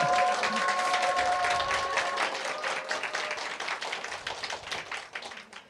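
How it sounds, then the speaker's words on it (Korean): A church congregation claps steadily for several seconds, dense and fairly close, tapering off toward the end with a few scattered claps. "감사의 박수 좀 올려드렸으면 좋겠습니다"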